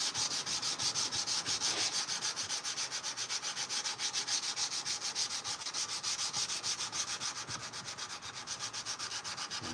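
A steel knife blade is hand sanded in steady, rapid back-and-forth strokes, an even, close abrasive rasp that continues without pause and without talk.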